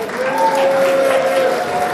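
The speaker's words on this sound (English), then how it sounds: "let's give a joyous round of applause for that amazing performance" A crowd at the Black Diamond Awards 2024 ceremony applauds after a performance, steady dense clapping filling the hall with a sustained tone ringing underneath.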